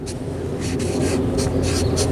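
A pen or marker scratches across a writing surface in short repeated strokes, heard close over a steady low hum.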